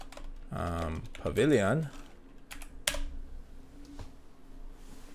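Quick keystrokes tap on a computer keyboard in short bursts and scattered single clicks, close by, while a person speaks over part of the typing.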